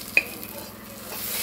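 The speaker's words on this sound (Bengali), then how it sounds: "কাটা বাটিকে নুন হলুদ মেখে ভাজা হবে" Pointed gourd slices coated in salt and turmeric frying in a pan, a close steady crackling sizzle opened by a single sharp utensil clink.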